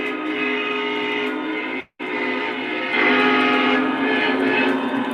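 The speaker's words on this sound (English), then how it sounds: "And the trains look good passing behind them." Lionel and MTH model trains roll past on a Conrail-themed layout, a continuous rumble with sustained whistle-like tones, briefly cutting out for a moment before resuming slightly louder.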